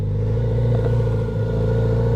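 Kawasaki Z900RS modern classic motorcycle fitted with an Akrapovic exhaust, idling with a steady deep rumbling drone held close and constant throughout, no voices over it.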